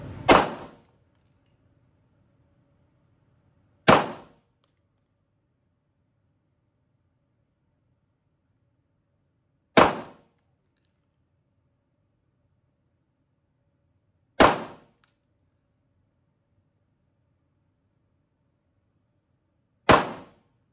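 Five sharp, loud shots from a Taurus TS9 pistol ring out one at a time, spaced several seconds apart, with quiet stretches between each crack.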